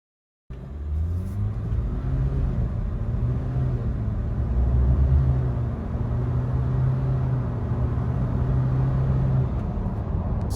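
Steady low cabin road noise and engine hum from a Ford Ranger Sport cruising on the highway at about 105 km/h, a smooth continuous rumble with no talking.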